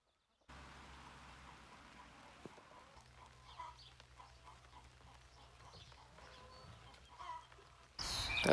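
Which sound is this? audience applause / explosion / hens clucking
hens clucking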